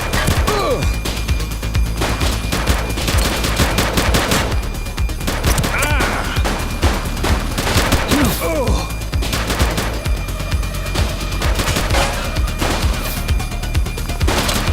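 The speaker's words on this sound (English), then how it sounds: "He's shooting!" Dense, continuous gunfire in a police shootout from the video game The Precinct, loud overlapping volleys and crashes with shouted voices mixed into the chaos.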